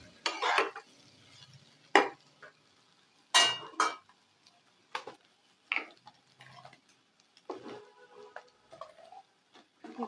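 A utensil stirs taro (kochu) and fish eggs in a cooking pan: intermittent scraping and clinking strokes arrive every second or two in short separate bursts, close up against quiet gaps.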